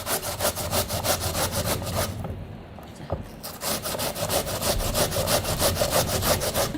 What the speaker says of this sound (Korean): 요 모서리 쪽으로 벌써 그 강판에 가는 소리가 틀려요